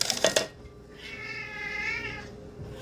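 Cats meowing and squabbling nearby, a few sharp clattering knocks first, then a long wavering yowl rising and falling for about a second and a half, fairly clear with no talking.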